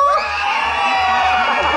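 A crowd of children shouts and cheers loudly and continuously at a freestyle street dance battle during a children's arts festival in an indoor performance hall.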